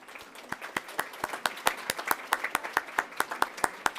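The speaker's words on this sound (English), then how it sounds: "let's give them a big, big applause." Clapping in a meeting room, sharp and evenly spaced at a brisk steady rhythm, close and clear with little else beneath it.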